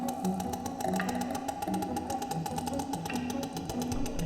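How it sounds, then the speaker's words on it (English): Rapid trains of sharp clicks over a steady underwater hum, evenly spaced like a ticking pulse, moderately faint. "The clicking you're hearing is actually the whales chatting to each other"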